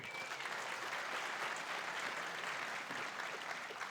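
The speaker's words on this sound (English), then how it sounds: "By a quick show of applause, how many of you out there tonight are stainless steel card-carrying members of the Long Now Foundation?" Audience applause at a Long Now Foundation talk, a dense and steady clapping from a large indoor crowd that holds at full strength throughout.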